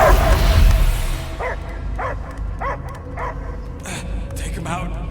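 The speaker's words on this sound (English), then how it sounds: "I hear only barking." A dog in the video game Guardians of the Galaxy barks about eight times in a rhythmic series over a game soundscape, with voices talking at the start.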